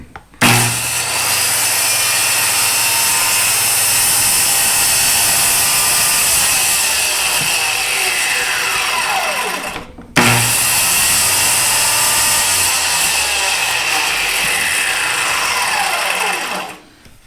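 A power saw runs loud and steady while plunge cutting into wood, whining for about nine seconds, stopping briefly, then starting again for another long pass before winding down; no one speaks.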